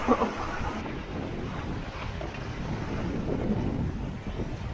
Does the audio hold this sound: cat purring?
no